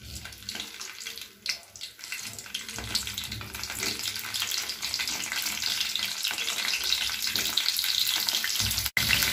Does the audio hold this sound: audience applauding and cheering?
no